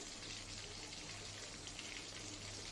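Battered meat frying in hot oil: a faint, steady crackling sizzle with an even hiss throughout and no voices.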